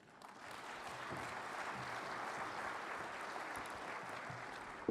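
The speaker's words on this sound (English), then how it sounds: "Once again, a round of applause for Dr. Agnes Kalibata there." A conference audience applauds at the opening ceremony of the AGRF 2018 agricultural forum, a dense, sustained round of clapping that swells quickly and holds steady, with no voices on top.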